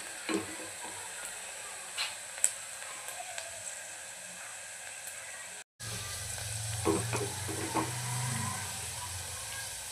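Onions for mixed dal tadka frying in a pan, a steady soft sizzle throughout with a brief break partway and faint stirring clicks, close and without talk.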